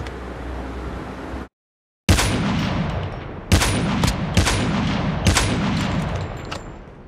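Gunfire in the mobile shooter Call of Duty Mobile during a solo-versus-squad match: loud, close bursts of rapid automatic shots with a few sharp single reports, broken by a brief silent gap.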